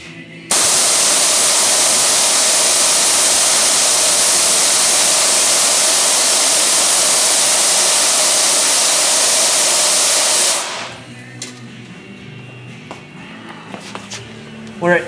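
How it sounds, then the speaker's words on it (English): A nitrous bottle valve at 1,000 PSI vents a hard, loud, steady hiss for about ten seconds. It then cuts off sharply, leaving faint handling clicks and quiet background. "So we'll do a 10-second burst here and see how much it uses"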